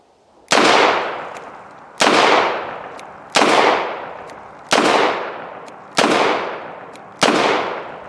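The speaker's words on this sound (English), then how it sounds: "This is the first time, first shots, and it comes back into your hand, but there's very little muzzle flip." Six loud, sharp gunshots from a Chiappa Rhino .357 Magnum revolver, evenly spaced about one and a half seconds apart, each a close crack with a decaying tail, with no talking.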